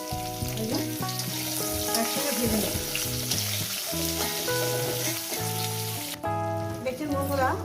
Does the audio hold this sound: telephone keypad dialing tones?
no